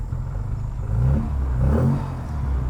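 A 1968 Mark II Morris Mini Cooper S with a Weber carburetor runs with a lumpy idle, a close, loud low engine rumble that swells twice as the revs rise and fall.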